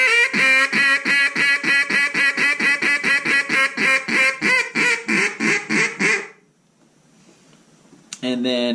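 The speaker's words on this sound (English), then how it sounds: "Next up, we'll do a hail call or your comeback call." A Zink NBG acrylic duck call blows a long hail or comeback call, roughly twenty loud, rapid quacks in a steady run that ends abruptly, then a short quiet gap before a voice speaks.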